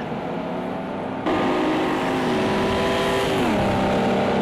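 Several race cars running together in a racing video game, engines droning at high revs with a rising whine, then one shifts down. No talk is heard.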